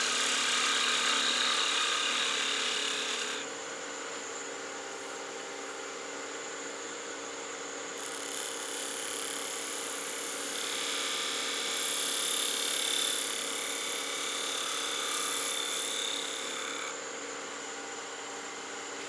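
Wood lathe spinning a gnome Christmas ornament blank while a spindle gouge burnishes and refines its curve, giving a steady motor hum with bright scraping hiss that swells and eases through the cut, close and alone.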